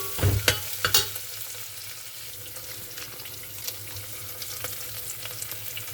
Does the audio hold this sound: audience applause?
no